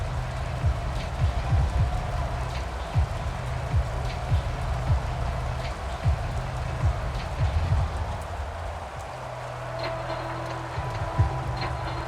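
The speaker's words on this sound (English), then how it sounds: "The rain set to continue as we are underway in the second half." Steady broadband rain hiss from a rainy Madden NFL 22 football game, Colts at Ravens on Monday Night Football, continuous and even with low crowd-like rumble beneath, no voice over it.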